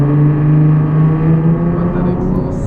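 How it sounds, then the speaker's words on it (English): A Nissan 370Z Nismo with a naturally aspirated engine and valved exhaust hums loud and close from inside the car, a steady tonal drone with slight rises in pitch, while a voice talks faintly underneath. "But that exhaust sounds nice."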